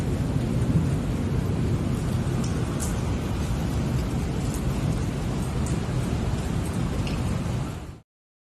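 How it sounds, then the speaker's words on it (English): Heavy thunderstorm with intense lightning, a dense, steady roar of pouring rain and rolling thunder filling the whole stretch, loud and continuous until it cuts off abruptly near the end. "I've never seen this much lightning in my life before."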